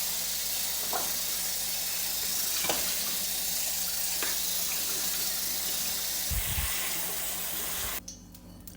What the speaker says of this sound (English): rinse your black beans onto the sink for around 30 seconds